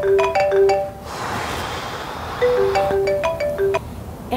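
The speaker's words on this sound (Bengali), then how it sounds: "এতবার করে কে ফোন দিচ্ছে?" A phone ringtone plays a bright repeating electronic melody in two bursts separated by a short pause, loud and close in an otherwise quiet room.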